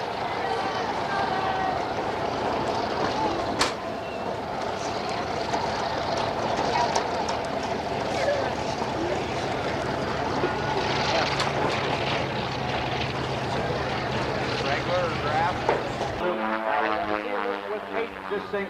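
Hawker Sea Fury piston-engine fighter flying at an airshow, its loud propeller drone sustained and steady overhead, with an announcer talking over it before the sound cuts off near the end.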